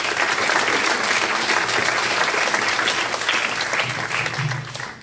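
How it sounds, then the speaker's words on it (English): A school audience at a high school senior awards night gives a graduating class a long, steady round of applause, dense and loud throughout with faint voices mixed in. "I think we should give them a round of applause for all their hard work"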